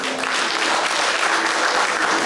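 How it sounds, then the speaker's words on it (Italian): An audience applauds continuously as prizes are handed out at an art biennale award ceremony in a Palermo palazzo, an even wash of clapping hands with no voices. "Un applauso."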